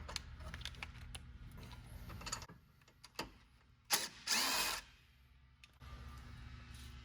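A ratchet works a nut off a bracket during a front bumper install on a 2022 Toyota Tundra: soft clicking bursts and scattered metallic handling sounds, with a louder rasping pass near the middle, heard up close with no speech.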